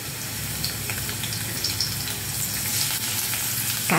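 Chopped garlic sizzles in hot oil in a kadai while fish and vegetables are being cooked. A steady, close, crackling hiss continues throughout with small pops and scraping stirs, and no one speaks.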